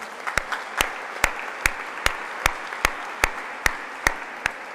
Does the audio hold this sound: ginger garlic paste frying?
no